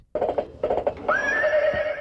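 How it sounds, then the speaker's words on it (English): An electronic Midnight Mustang rocking horse toy plays a recorded horse sound: a few clip-clopping hoof beats, then a loud, close, realistic neighing whinny that rises and trails off. "Yep, Midnight Mustang sounds like a real horse."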